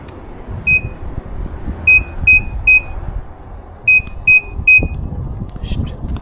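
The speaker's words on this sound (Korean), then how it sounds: "20km에도 알람이 들어오고 있습니다" Alert tones from a designated-driver call app sound in two bursts of short, bright, identical beeps, three or four in each group, loud and close over the low rumble of a moving car.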